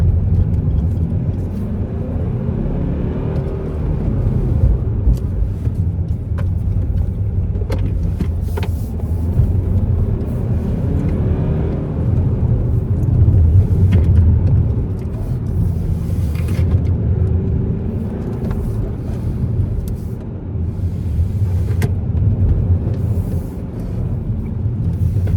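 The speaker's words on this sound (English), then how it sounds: "Audi A4 diesel." Inside a moving Audi A4 diesel car: a steady low engine and road rumble fills the cabin, with occasional small clicks and knocks, no voices.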